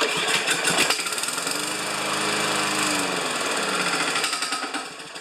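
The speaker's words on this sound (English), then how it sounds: "Could be the engine's got a death rattle." A new lawn mower engine runs loud and close with a harsh, rapid mechanical rattle, chugging steadily for about five seconds before cutting off near the end.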